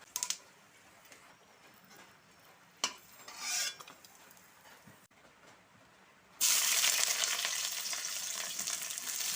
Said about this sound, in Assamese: অকণমান বাদামখিনি ভাজি লওঁ।